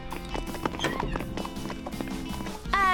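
A cartoon Paint Horse whinnies while hooves clip-clop steadily, with music underneath and the neigh rising clearly near the end.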